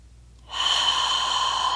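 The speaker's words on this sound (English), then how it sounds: "Deep breath." A deep breath drawn during a yoga hamstring and calf stretch, starting after a short silence as one long, airy breathy rush that holds steady and close before tailing off.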